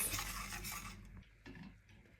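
A spoon scrapes and clinks against a pot as sugar is stirred into warm milk, starting with a brief sizzle-like hiss and then giving way to a few soft, close scraping strokes.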